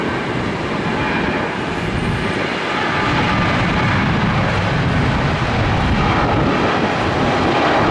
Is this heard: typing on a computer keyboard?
no